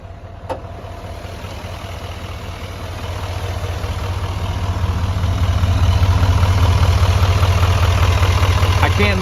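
A 2019 Chevy 2500HD pickup with a 6.6 L Duramax diesel idles steadily with a deep, constant low rumble that grows a little louder partway through, plus a faint high whine and a brief click near the start.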